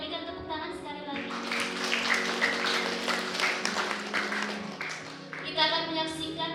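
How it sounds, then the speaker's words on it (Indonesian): Applause from wedding guests for the newlywed couple, Eppy and Idi, during a church wedding ceremony at Jemaat Bukit Harapan, steady clapping mixed with music and voices throughout. "Kita berikan tepuk tangan sekali lagi"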